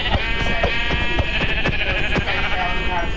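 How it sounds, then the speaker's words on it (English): Sheep in Minecraft bleat repeatedly in quick succession, loud and close, overlapping in a steady chorus throughout. "Sorry, but I need to kill your sheep"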